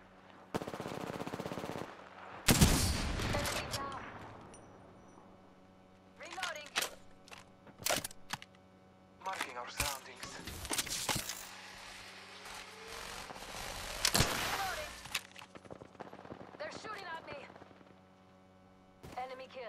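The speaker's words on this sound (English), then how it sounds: "Shooting. Reloading. Battling the enemy." Gunfire in the shooter game Apex Legends comes in bursts of loud sharp shots and rapid automatic strings spread across the clip, with quieter gaps and a low steady hum between them.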